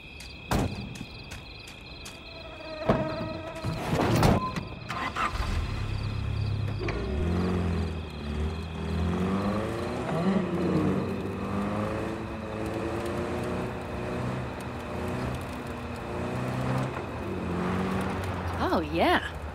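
In Cyberpunk 2077, a car door thuds shut and the engine starts, then settles into a steady rumbling drive with a humming motor and faint insect-like chirps, while people talk over it.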